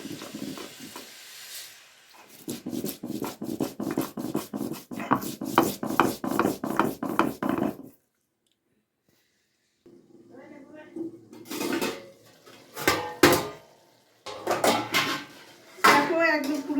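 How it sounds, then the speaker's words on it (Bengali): White and black mustard seeds are ground into a paste with a fast run of rhythmic rubbing strokes. After a brief silence, slower, irregular scraping and knocking bursts follow. "সর্ষেটা বেটে নিই"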